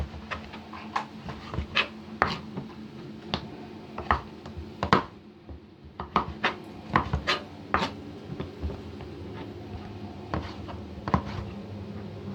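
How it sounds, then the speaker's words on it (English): A knife finely dices a tomato on a board in quick, uneven bursts of sharp taps that sound close and clear against a quiet background. "with the tomato, I'm just going to do it fine dices once again"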